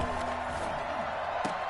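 Stadium crowd noise at an American football game involving Seattle, a steady broad roar from a large crowd with a few brief cheers and whoops rising above it, heard from a distance.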